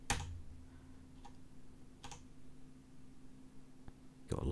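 Sparse computer keyboard key presses toggling settings in Nvidia's 2006 GeoForms tech demo, a few isolated clicks spaced over several seconds, with a low steady hum beneath and a louder clatter at the end.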